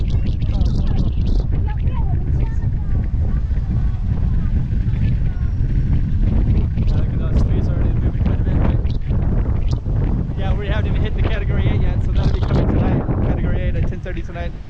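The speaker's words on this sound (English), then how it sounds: "It's going to be pretty windy." Strong gusty wind buffets the microphone on a street in Macau ahead of a typhoon, a steady roaring rumble that fills the whole stretch with brief dips, while background city and voice sounds sit faintly beneath.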